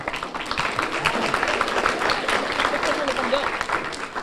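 Audience applauding a diver at a high school swimming and diving awards celebration, a steady wash of many hands clapping at an even, fairly loud level with no pauses.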